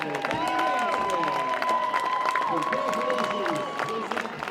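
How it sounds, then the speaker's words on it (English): Crowd applause in the stands at a high school football game during a halftime alumni recognition, spread across a large outdoor crowd under amplified announcer talk with a ringing public-address echo. "Let's hear a big round of applause for the 2019 Distinguished Alumni,"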